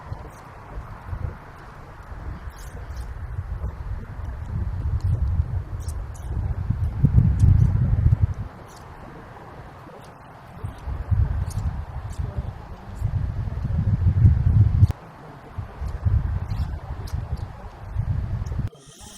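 Strong wind gusts across an open municipal golf course in winter, a low rumbling buffet on the microphone that swells and fades in waves, with faint scattered clicks above it.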